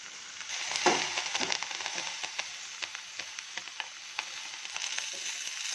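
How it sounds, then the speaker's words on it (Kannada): Green chillies and coriander stems fry in oil in a pan, giving a close, steady sizzle broken by frequent small crackles and pops, with no talking. "ಇವಾಗ ಸ್ವಲ್ಪ ಎಣ್ಣೆ ಹಾಕೋಣ."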